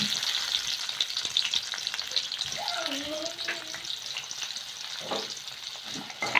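Thinly sliced onions frying in hot oil, a steady close sizzle with scattered crackles and brief clinks of stirring, a faint voice murmuring partway through.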